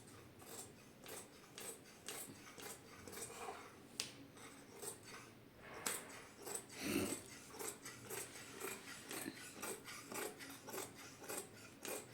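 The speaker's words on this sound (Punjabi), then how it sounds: "ਇਸ ਤਰੀਕੇ ਦੇ ਨਾਲ ਆਪਾਂ ਇਹਨੂੰ ਇਹਦੇ ਵਿੱਚੋਂ ਕੱਟ ਦੇਾਂਗੇ" Scissors cutting cloth for a salwar, a long series of close, crisp snipping and rasping strokes in an uneven rhythm, soft overall with no talking.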